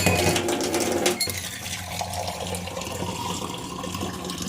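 Drinking water pours and splashes into a container in the kitchen, with a sharp clink near the start followed by a steady trickling stream that fades gradually.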